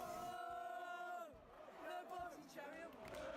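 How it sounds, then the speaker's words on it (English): Rugby league supporters at a Leigh v Wigan Super League match cheer their side on, a loud, sustained crowd roar with rising shouts and whoops throughout. "They're cheering the side on."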